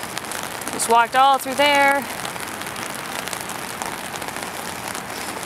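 Steady rain falls outside the Kaiyukan aquarium, a continuous soft hiss across the whole scene, with someone talking briefly near the start.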